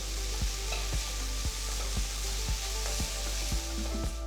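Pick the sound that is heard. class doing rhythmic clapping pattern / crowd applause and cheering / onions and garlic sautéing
onions and garlic sautéing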